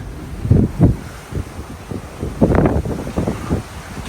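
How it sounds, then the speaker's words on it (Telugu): Strong gusts of wind at sea aboard a cruise ship buffet the microphone in uneven, rumbling surges, with a faint steady hiss in between. "ఫుల్ గాలి వస్తూ ఉంది."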